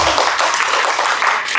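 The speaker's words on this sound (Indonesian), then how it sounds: "Tepuk tangan dong." A village audience of women claps in a short, dense burst of applause lasting under two seconds, fairly loud and close.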